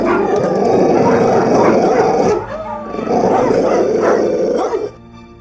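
A pack of hunting dogs barks and growls excitedly, close by, in two loud bursts separated by a brief lull.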